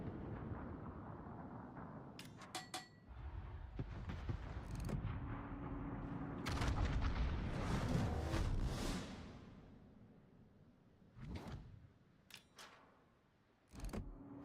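Naval gunfire in World of Warships: booming salvos and blasts from battleships mixed with whooshing shells, a dense loud stretch in the middle, then several sharp separate cracks toward the end, with no talk.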